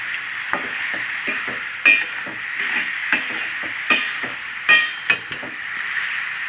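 Radish greens frying with chili powder in a pan, a steady hiss of sizzling broken by repeated scrapes and clacks of a spoon stirring, close and fairly loud with no talking.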